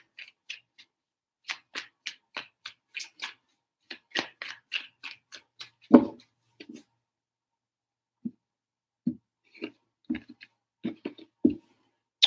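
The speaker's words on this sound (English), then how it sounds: "Three shuffles." Tarot cards being shuffled by hand, a run of quick crisp riffling snaps followed by a few softer, spaced-out taps and flicks, close and fairly quiet, with no one talking.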